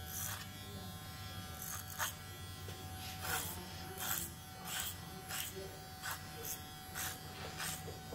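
Electric hair clippers cutting curly hair over a comb, a steady close buzz with repeated brief louder passes as the blades bite through, faint room tone beneath.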